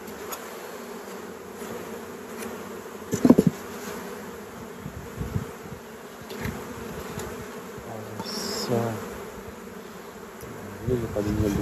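Honey bees buzz steadily around an open, queenless hive during queen rearing, a faint continuous drone with occasional louder passes near the ear and some handling knocks.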